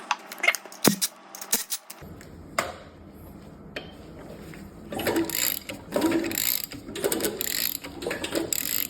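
A hand ratchet works loose a tensioner, giving sharp, close metallic clicking in several uneven bursts, followed by quieter handling clatter and rapid ratcheting strokes toward the end.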